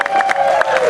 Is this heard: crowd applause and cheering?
yes